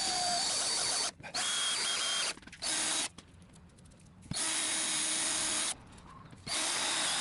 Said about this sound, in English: bigger bit here to finalize the hole